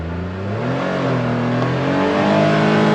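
Ford Ranger XD 1500 UTV with an EVP exhaust accelerating hard, its engine note climbing steadily in pitch as the revs rise, loud and close throughout with no talking.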